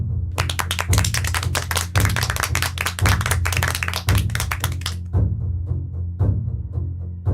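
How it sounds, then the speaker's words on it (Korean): Police officers in a lecture hall clap for a lecturer in an audio drama, a quick run of sharp, close hand claps that thins to a few scattered claps at the end over a low steady hum. "경찰 간부들이 강사의 강의에 수고했다고 박수를 친다."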